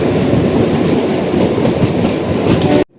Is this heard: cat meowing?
no